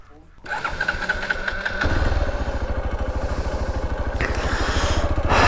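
A Hero Xpulse 200 motorcycle with a suspected weak battery cranks and catches, then settles into a close, loud, rapid, rhythmic single-cylinder idle thump that rises slightly. Voices talk over the engine.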